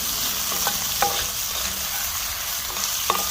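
A country breakfast skillet fries on a Weber kettle grill with a dense, steady sizzle while an old wooden spoon tosses the food. The spoon makes a few soft scrapes and taps, and there is no speech.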